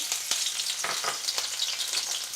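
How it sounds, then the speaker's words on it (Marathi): Finely chopped green chillies fry in hot oil, a close, crackling sizzle with sharp bursts and spatula strokes spaced through the brief stretch, no voices present. "आता या ठिकाणी तेल छान तापले आहे यात आपल्याला बारीक कापलेली हिरवी मिरची घालायची आहे"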